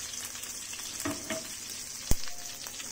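Garlic frying in oil for garlic kangkong gives a soft, steady sizzle with a few light stirring clicks and one sharp knock, close and fairly quiet, with no talking.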